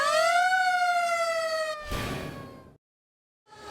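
A 1949 Dodge Power Wagon fire truck siren wails loud and close, a rising then slowly falling tone that winds down, cuts to brief silence, then starts again.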